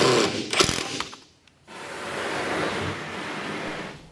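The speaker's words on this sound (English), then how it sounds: "Make my pre-drills and screw it together." A drill bores pilot holes and drives screws into a shop cabinet: a loud close whirring burst with a few clicks, a brief pause, then a steady sustained motor hum.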